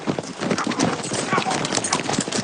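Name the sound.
horses moving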